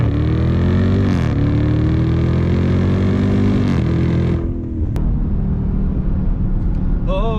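A Dodge Durango SRT Hellcat's supercharged 6.2-liter HEMI V8 revs loud and close, its deep sustained roar swelling twice before dropping to a rough idle rumble.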